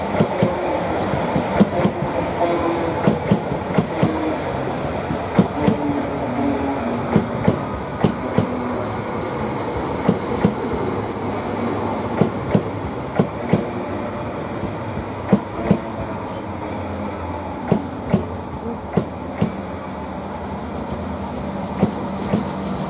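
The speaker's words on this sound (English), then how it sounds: "Now we've got another train coming in, which is 11:51, Greater Anglia to London Liverpool Street," A Greater Anglia class 745 electric train arriving at Manningtree station, a rumbling rolling hiss with regular clickety-clack wheel beats over rail joints and faint high squeals, close and loud throughout.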